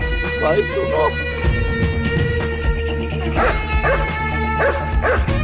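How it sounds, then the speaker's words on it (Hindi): A dog barks and yips repeatedly in short bursts, fairly close, while people talk over it with music playing underneath. "अरे कुत्ता क्यों भौंक रहा है?"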